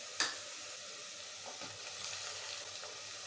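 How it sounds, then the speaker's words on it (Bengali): Ginger-garlic paste hitting fried onions in a pot for mutton kosha with potatoes, opening with a sharp clatter then a soft, steady sizzle with faint stirring scrapes. "2 টেবিল চামচ আদা রসুনের পেস্ট দিয়ে দেব"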